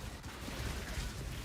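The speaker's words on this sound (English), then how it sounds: "Ooh, that is a lot of explosions." Dense, overlapping explosions from a minion build in the game Path of Exile, a steady barrage of rapid bursts and rumbling impacts that fills the whole moment without a pause.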